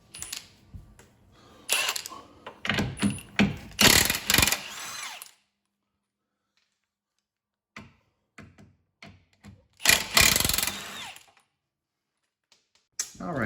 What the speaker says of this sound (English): Now I can remove the rear two bolts. They are a 21 mm.